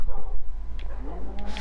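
Several dogs in Minecraft on PS4 during a glitch that spawns too many of them, giving loud, close yips and barks with whimpering over a steady low hum.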